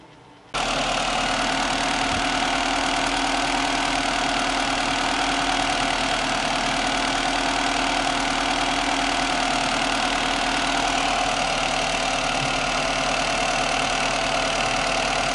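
A Volkswagen Passat B3 engine idles steadily after starting following a timing belt replacement, a continuous, fairly loud hum with a faint knocking undertone that stays constant throughout, with no talking.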